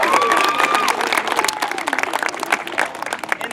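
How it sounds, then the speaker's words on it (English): An audience applauds presenters after a historical talk at Sutter's Fort, a loud, dense burst of clapping with some cheering and a whistle, fading slightly toward the end. "Let's give our presenters a round of applause."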